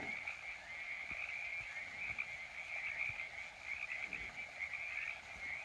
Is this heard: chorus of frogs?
yes